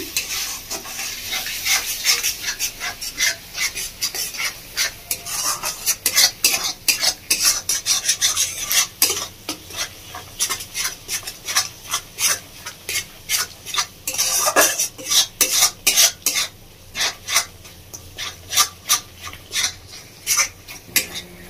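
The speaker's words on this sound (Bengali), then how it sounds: "এবারে এই মশলাটাকে ভালো করে কষিয়ে নেব।" Spice paste with Kashmiri chilli powder and salt being sautéed in a pan for doi potol, with a close, rhythmic run of spoon scrapes and stirs over a low sizzle, no voices.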